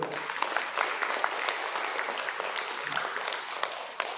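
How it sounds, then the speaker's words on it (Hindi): A crowd at a religious discourse gathering applauds steadily, dense clapping filling the whole stretch at an even level without pause. "ताली बजाओ"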